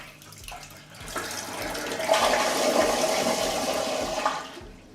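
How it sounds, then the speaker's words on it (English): A HOROW T38P smart toilet flushes with a steady rushing swirl of water that builds, holds for a few seconds, then begins to fade, close by. "I'm going to flush the toilet."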